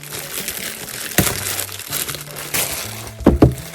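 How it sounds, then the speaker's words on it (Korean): Crinkling and crackling of plastic as a sealed, taped figure package is torn open, close-up rustles with a few sharper crunches toward the end. "뜯어보도록 할게요. 얘부터 뜯어볼게요."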